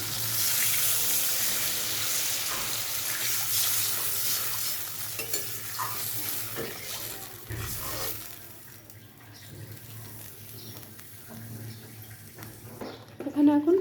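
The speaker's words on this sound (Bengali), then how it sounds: "এখন আমি এখানে জল দিয়ে দিচ্ছি" Water poured into a hot kadai of fried spice paste for a rohu fish and potato curry, starting with a loud hissing gush that settles into a softer bubbling simmer, and a final clatter at the end.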